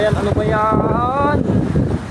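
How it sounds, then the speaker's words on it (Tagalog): Strong wind buffets the microphone outdoors on a street in Pasig City, a constant low rumbling roar with a voice speaking briefly over it. "Ang hangin."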